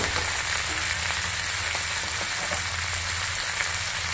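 Raisins and chopped tomato fry in a hot pan with ginger and garlic paste, producing a close, loud, continuous sizzle that holds steady throughout with no voices.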